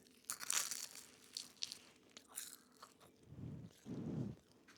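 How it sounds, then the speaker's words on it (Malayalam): Someone bites into a crunchy homemade egg puff, with several quiet, close crisp crunches and flaky pastry tearing, followed by two muffled chewing bursts and no talk. "ഇവൻ അത് കടിക്കുമ്പോൾ ആ സൗണ്ട് ഉണ്ടല്ലോ"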